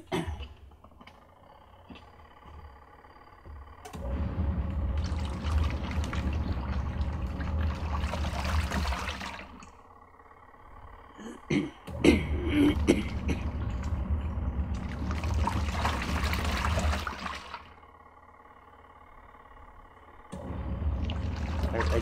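A portable off-grid washing machine churns water and suds in loud bursts of sloshing agitation a few seconds long, separated by quieter pauses.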